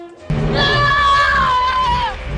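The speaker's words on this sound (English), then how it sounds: "the kid's hilarious scream when the aliens come after him" A child actor's scream from the 1986 film Invaders From Mars, one loud sustained high-pitched cry lasting about two seconds that slides slowly downward before trailing off.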